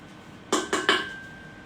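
Butter is beaten into a chocolate mixture for a marquesa de chocolate. A utensil knocks against the bowl three times in quick succession, close and fairly crisp, then the room goes quiet.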